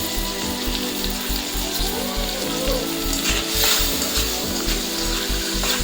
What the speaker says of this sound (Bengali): এবার এটাকে ভালোভাবে নেড়ে নেবো